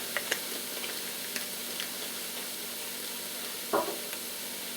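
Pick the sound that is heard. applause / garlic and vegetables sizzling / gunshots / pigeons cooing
garlic and vegetables sizzling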